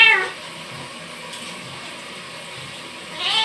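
A cat being bathed, with water around, lets out a loud close meow at the start and another as it ends, a quieter stretch between.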